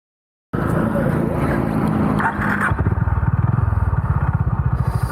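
A Honda CB350 Highness motorcycle rumbles while being ridden, its engine note close and loud with wind noise, settling into an evenly pulsing thump in the second half.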